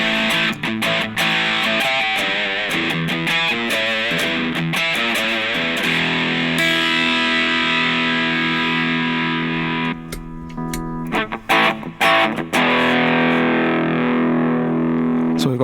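Electric guitar played through an original Boss DS-1 distortion pedal, heavily distorted chords and riffs ringing loud and continuous with brief choppy muted gaps near the end.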